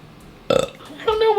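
A person gives a short, loud burp up close, followed by a second guttural burst.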